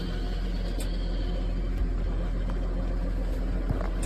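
A 2023 Case IH Maxxum 150 tractor engine turning over and running, a steady low diesel rumble that holds close and even with a few faint clicks, no voices over it.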